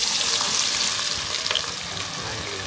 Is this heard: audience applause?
no